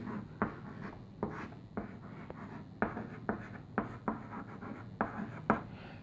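A pen or chalk scratches steadily across a surface as a linear equation is written by hand, with quiet rhythmic strokes and sharp taps repeating about every half second.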